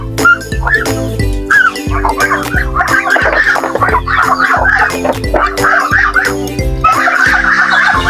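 Geese and goslings on a farm make a busy, close chorus of repeated honking and squeaky calls in short overlapping bursts, with no talking.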